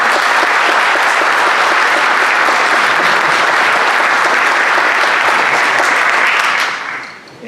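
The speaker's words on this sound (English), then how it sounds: "Please, a round of applause." Dense, loud applause from a conference audience at an opening ceremony fills the hall steadily, then fades out in the final second with no one talking.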